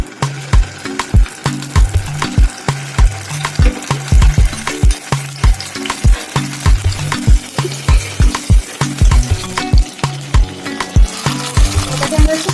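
A paste of onion, garlic and tomato fries in hot oil with a dense, steady crackling sizzle, broken by regular scraping knocks of stirring throughout, with no talking.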